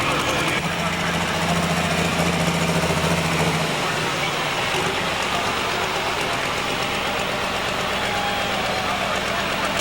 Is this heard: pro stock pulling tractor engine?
yes